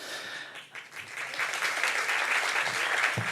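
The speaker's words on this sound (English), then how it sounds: "They deserve the applause." Opening-night film festival audience applauding in a theatre before a screening; many hands clapping at moderate volume, swelling slightly and continuing steadily, with a brief dip near the start.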